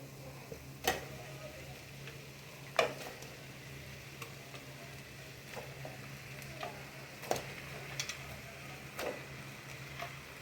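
Chicken sautéing in a pan for pepper chicken, a soft steady sizzle with occasional sharp ticks and scrapes of a spoon stirring, fairly quiet and close.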